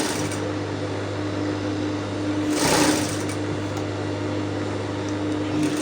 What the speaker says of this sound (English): I'm going to keep sewing it like that.